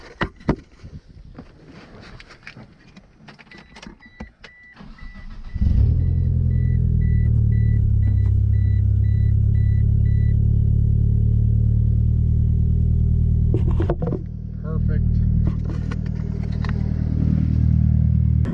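A 2G GSX car engine cranked over on a small battery, clicks and rattles before catching with a roar, then settling into a loud, steady, close idle with a slight dip and recovery.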